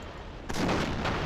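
Type 96 howitzer artillery firing in a Battlefield game, heard as one sudden loud blast halfway through that rolls into a sustained booming rumble with a second surge near the end.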